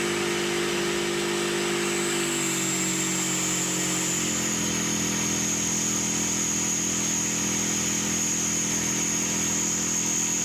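A T-64 tank's two-stroke diesel engine runs steadily and loudly alone, a continuous droning rumble with a buzzy mechanical hum whose pitch shifts slightly a few seconds in, then holds even.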